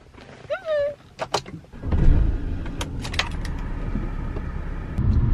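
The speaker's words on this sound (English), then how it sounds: "So let's start my BMW." A few chimes and key jingles, then a BMW car engine cranks and catches, settling into a steady low rumble nearby.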